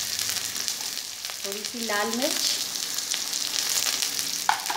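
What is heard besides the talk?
onions frying in hot oil with curry leaves and cumin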